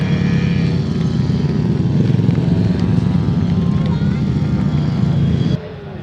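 Solo grasstrack racing motorcycles at a 500 solo competition roar loudly and continuously, their engines droning and revving together before dropping slightly near the end, with a commentator talking over them.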